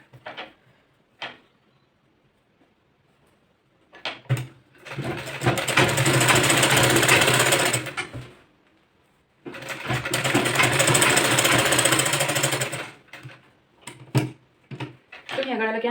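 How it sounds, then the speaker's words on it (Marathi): Sewing machine stitching a boat neck blouse in stiff fabric, running in two long steady bursts of several seconds each, with short clicks and handling noises between and around them, close and fairly loud; someone speaks briefly between runs. "आता याच्यावरून अशी टिप टाकून घेऊया."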